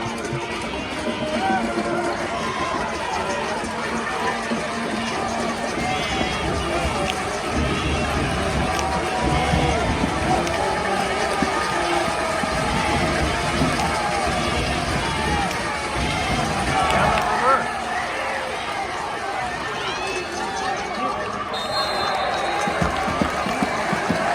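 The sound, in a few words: football crowd noise from the Dragon Nation fans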